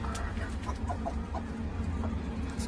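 Pigeons resting in a loft after feeding make a soft, continuous low cooing and rustling murmur, fairly faint and steady with no voices.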